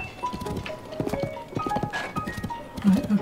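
Horse hooves clip-clopping at a steady trot along a narrow path in the video game The Legend of Zelda: Tears of the Kingdom, with game ambience and a louder thump near the end.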